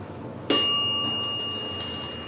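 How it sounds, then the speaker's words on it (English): A Montgomery Vector traction elevator in a convention center sounds its bell: one sharp, bright ding that strikes suddenly and rings out with a long, slowly fading metallic tone over a quiet background. "that bell's annoying"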